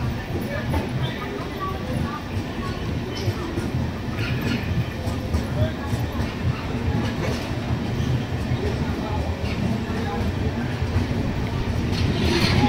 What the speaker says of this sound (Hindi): हमारी संपर्क क्रांति एक्सप्रेस ने अब कोटा से अपना डिपार्चर ले लिया है